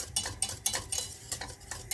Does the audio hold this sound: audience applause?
no